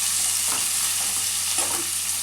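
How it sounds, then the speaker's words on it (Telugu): Ginger garlic paste and turmeric fry in oil for a korameenu fish curry, giving a dense, continuous close-up sizzle with soft stirring scrapes underneath and no voices. "అల్లం వెల్లిగడ్డ పేస్ట్, పసుపు పచ్చివాసన పోయేంత వరకు వేయించుకోవాలి."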